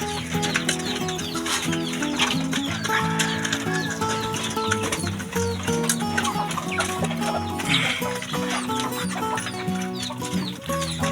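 Hungry Shamo chickens cluck and call nonstop at feeding time in a backyard, a dense, layered flock chorus close by with overlapping calls and no clear speech.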